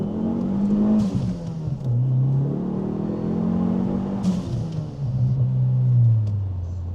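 A Dodge Neon SRT-4 turbocharged engine of about 230 horsepower revs up hard in first gear from inside the car, its loud rumbling pitch climbing and dropping across repeated pulls.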